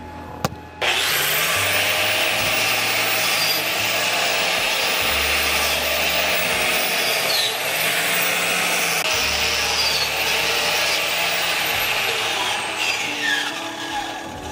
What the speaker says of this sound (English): then we're gonna use our wire wheel to clean it